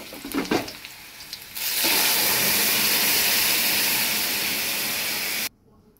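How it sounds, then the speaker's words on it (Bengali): Lentils tipped into a hot pan of oil with turmeric, starting with a few clattering impacts, then bursting into a loud, steady sizzle that holds for several seconds before cutting off abruptly. "ডালটা ঢেলে দেবো।"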